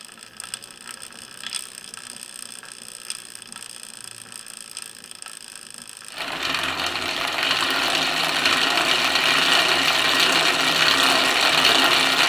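Bicycle chain running over fixed-gear wheels: first quiet with faint ticking, then abruptly a loud continuous rattling grind as a poor chain line is heard, steady and close to the end.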